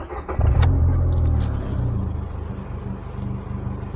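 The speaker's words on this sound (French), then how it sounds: "Donc je vais démarrer la voiture." A Ford Fiesta 60 hp engine cranks and catches, bursting into a loud rev before settling into a steady, rumbling idle close by.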